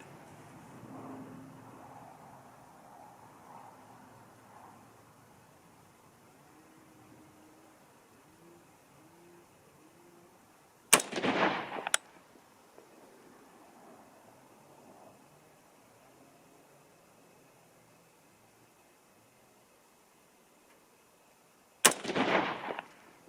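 Hunting rifle shots ring out while the rifle is being sighted in at a range: two sharp, loud reports about a second apart, then a long quiet gap before a third shot.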